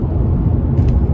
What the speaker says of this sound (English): right now there's tons of vehicles going all over the place. They're driving, right?